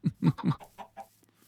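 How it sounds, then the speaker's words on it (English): A Minecraft chicken gives a short run of clucks, several quick notes fading toward the end, fairly close and clear with no talking. "Little baby chicken."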